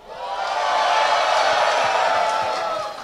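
A crowd at a live rap battle cheers and whoops in a sustained, loud roar that swells and holds for several seconds.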